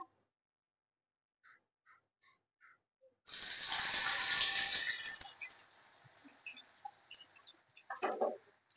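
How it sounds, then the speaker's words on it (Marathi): Moong dal dropped into hot oil bursts into a loud, dense sizzle after a few soft taps, then fades to a lighter crackle with a brief clatter near the end. "तर त्यामध्ये आपण आता मूग डाळ टाकून घेऊया"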